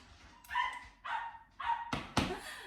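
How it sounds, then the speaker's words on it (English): A dog barks outside, eager for a dinner treat: a series of five loud, sharp barks, the first three evenly spaced and the last two coming quickly together, with whimpery yips between. "My brother's dog is outside and he is very eager for his dinner treat"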